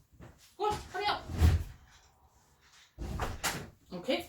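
A door bangs open as a cat rushes out of a house, one short thud in the middle, with someone talking before and after it.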